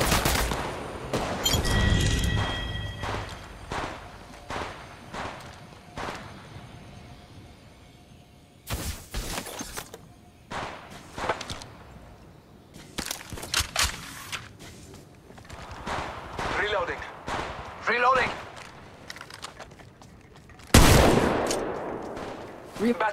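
An attacking squad's gunfire in Apex Legends Mobile erupts in sharp, loud bursts and scattered single shots, with pauses between volleys and a heavy blast near the end, mixed with short spoken game callouts.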